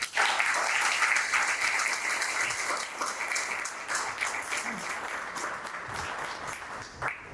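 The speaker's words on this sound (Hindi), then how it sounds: "can we have a huge and thunderous round of applause?" Thunderous audience applause fills an awards ceremony hall, dense sustained clapping from a large crowd that holds steady for several seconds, with no speech over it.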